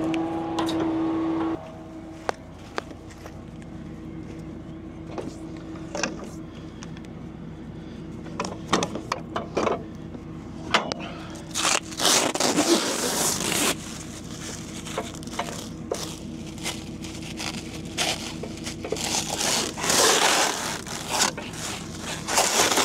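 A farm bale wrapper puts plastic film around silage bales, with intermittent crinkling, scraping and crackling over a low mechanical hum, moderately close and growing busier toward the end.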